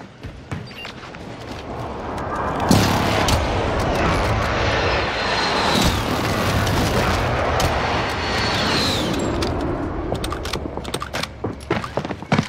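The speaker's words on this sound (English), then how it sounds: "friendly precision airstrike inbound" Rumbling in-game airstrike from a shooter game, with a low continuous roar of aircraft and explosions sustained for several seconds after a sharp onset, loud and dense, tapering into scattered bursts near the end.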